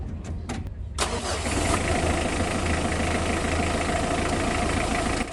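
A Mitsubishi L300 engine, freshly refilled with oil, cranks in a few short bursts, catches at about one second, then settles into a steady, close, loud idle running alone to the end.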